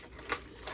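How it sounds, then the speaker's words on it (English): Scissors snipping apart packaged organic turkey breast portions, two quick faint cuts heard close in an otherwise quiet kitchen. "I'll separate these again with the scissors"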